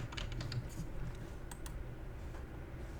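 Typing on a computer keyboard in QuickBooks Online, a few faint clicking keystrokes over a low steady room hum, with no voices.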